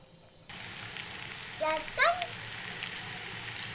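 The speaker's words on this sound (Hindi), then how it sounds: "और अब हम ये लहसुन का जो है वो तड़का बना रहे हैं।" Garlic paste begins sizzling abruptly in hot oil as a tempering for Kashmiri kadhi, a steady hissing fry, with a couple of brief squeaky tones rising over it.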